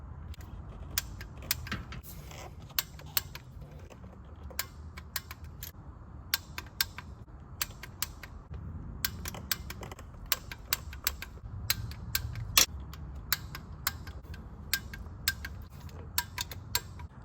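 Clicks and ticks ring out from a torque wrench as bolts are tightened on a GReddy oil pan baffle for a GR86. The sharp, close clicks come irregularly over a steady low background hum.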